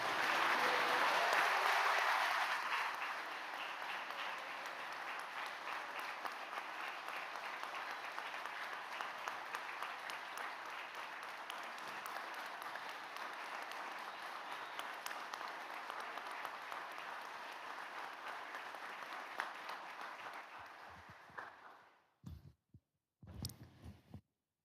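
Sustained applause from a large graduation convocation audience, loudest at first and then settling into a steady, distant clapping for about twenty seconds before cutting out abruptly.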